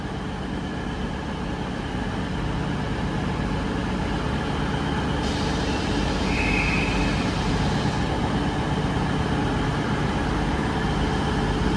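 A Class 220 Voyager diesel unit, 220022, idles at Stoke-on-Trent station before departure, a loud, steady engine rumble with a faint whine that rises partway through.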